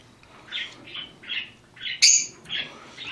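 A hand-fed cockatiel gives a rapid string of five or six sharp, close squawks in an even rhythm, one call harsher and louder than the rest, with no voices.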